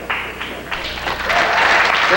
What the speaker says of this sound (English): That's not worth clapping.